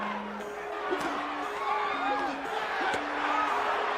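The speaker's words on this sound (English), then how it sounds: "Crowd erupted." A boxing crowd at Mike Tyson vs. Donovan Ruddock roars and cheers, a broad arena swell of noise rising and falling under a ringside commentator's voice.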